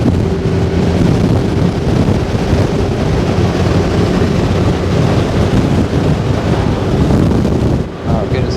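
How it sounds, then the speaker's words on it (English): Wind roars steadily over the microphone on a ride aboard a 2021 Honda Gold Wing DCT motorcycle around Lake Hodges, a loud, constant buffeting rush that dips briefly near the end. "Oh, getting some good wind right here."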